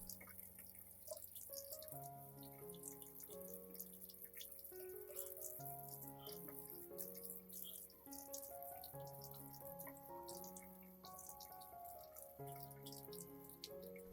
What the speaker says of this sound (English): I will rinse the entire plant under running water.